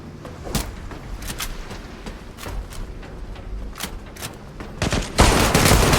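Repeated gunfire from the Zula online shooter, sharp shots scattered through the clip and building into a loud, dense burst near the end, close and with no talking.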